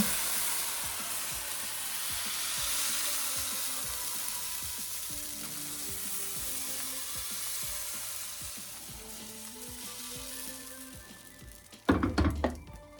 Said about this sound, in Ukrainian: Пательня готова для смаження. Наливаємо наше тісто.